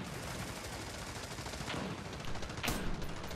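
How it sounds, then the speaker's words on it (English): Video game gunfire cracks out in a few bursts during a multiplayer match, faint and distant at first, then a sharper, louder shot near the end, with no speech. "Oh, I just shot my teammate."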